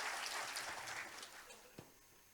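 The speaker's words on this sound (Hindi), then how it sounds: "तालियां आप लोग की जोरदार होनी चाहिए।" An audience claps for a poet at a Hindi poetry recital at a university event. The dense applause is loudest at the start and gradually thins and fades over a couple of seconds.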